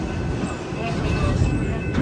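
A roller coaster train rumbles along its track at Busch Gardens Williamsburg, a steady, fairly loud rolling roar with faint rattling, heard at a moderate distance amid park ambience.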